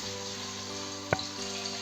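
Stuffed mini Christmas chickens brown in a pan with a faint, steady sizzle, broken once by a sharp short clink partway through.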